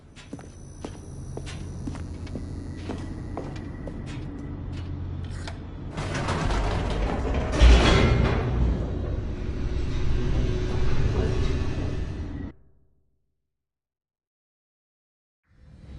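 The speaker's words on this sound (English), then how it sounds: "The elevator raced downward, plummeting towards an unknown fate." Descending elevator in the video game The Stanley Parable, heard as a continuous low mechanical rumble with scattered clanks that swells midway, then cuts off abruptly into silence. No one speaks.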